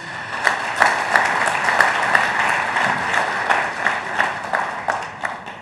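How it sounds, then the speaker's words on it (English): An audience at an India Today Conclave interview applauds steadily, with dense, continuous clapping and a few sharper claps standing out, at a moderate level with no talking. "I think that warrants a round of applause, please."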